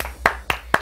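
Three sharp hand claps, evenly spaced about a quarter second apart, from an Eid special comedy TV show; moderately loud and close, with no talk over them.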